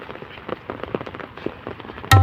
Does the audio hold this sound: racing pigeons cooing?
no